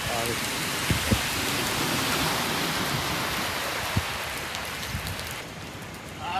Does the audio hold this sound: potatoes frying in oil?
no